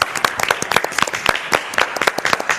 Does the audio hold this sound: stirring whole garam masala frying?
no